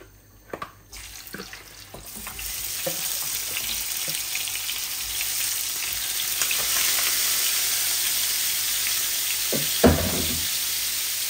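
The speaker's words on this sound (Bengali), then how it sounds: "আমি রুই মাছের মাথা আর মাছের মধ্যে হলুদ লবণ দিয়ে দিয়েছি। এখন এগুলো আমি ভাজার জন্য বসাই দেব।" Rohu fish head and pieces seasoned with turmeric and salt fry in a pan, a steady loud sizzle building after a few clattering knocks and continuing with occasional stirring taps.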